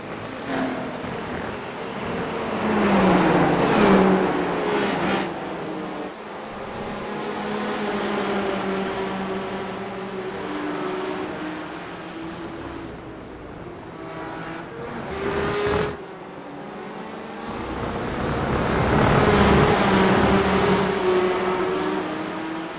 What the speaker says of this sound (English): Okay, you got 2 Porsche Cups coming from behind, Mark.